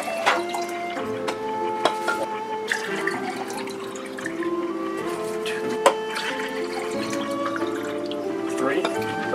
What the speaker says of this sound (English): And then you add 3 cups of water.